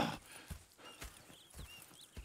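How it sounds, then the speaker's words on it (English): Horses in the Red Dead Redemption 2 video game, making a slow, steady clip-clop of hooves at a walking pace, moderately close, with faint high whinny-like calls in between. "Go check the horses are ready."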